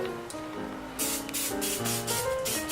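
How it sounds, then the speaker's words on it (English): An aerosol can of cooking spray sprays onto a tuna burger in a pan in several short hissing bursts up close, after a moment of quieter sizzling background. "Then spray the tuna burger."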